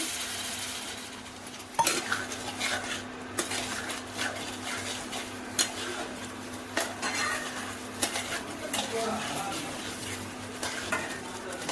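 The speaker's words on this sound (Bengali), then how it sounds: "এইভাবে আমি নাড়াচাড়া করে ভালো করে মশলাগুলো আমি কষিয়ে নেব 5 মিনিটের মতো" Spices for a hilsa and fish curry stirred in a pan with a little water, a utensil repeatedly scraping and clinking against the metal over a soft steady sizzle, close by with no talking.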